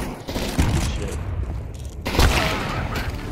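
Gunfire in Counter-Strike 2 with an AWP sniper rifle, two heavy booming shot bursts ringing out over constant game noise and chatter.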